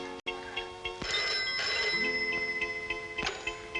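During an outgoing call a telephone rings faintly. Repeated ringing tones with ticking, bell-like pulses follow a brief dropout near the start, and there is no talk.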